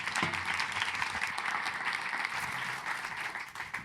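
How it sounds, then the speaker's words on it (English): Enthusiastic audience applause at a startup pitch night in The Hague, a thick wash of clapping that holds steady and thins slightly near the end. "Round of applause, everybody."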